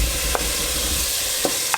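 Ginger sizzles steadily in a hot pan for Filipino cooking, a dense continuous hiss with a few soft clicks of a utensil against the pan, close and unbroken, with no voices.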